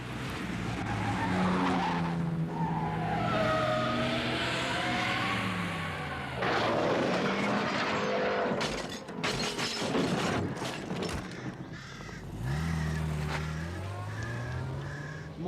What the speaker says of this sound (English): Some fool in a sports car just smashed into a tree.